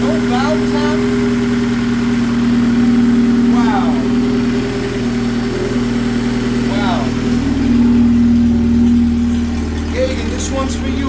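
A Honda K20 engine swapped into an EG Civic idles smoothly and steadily on its first start, a constant low hum with people talking over it.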